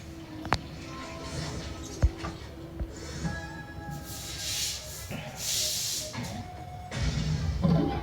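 Chicken meat cooking in a covered pot gives off a steady, close hiss of steam and sizzle, broken by a few sharp metallic clinks and knocks, with no talking.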